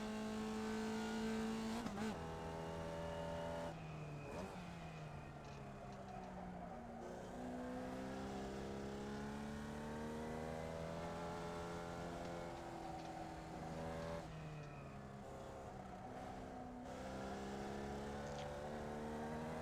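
A Formula Vee race car in iRacing at Jefferson, its engine droning steadily with rising and falling pitch through gear changes and lifts, the tone sweeping up as it accelerates across the start-finish line on a flying lap.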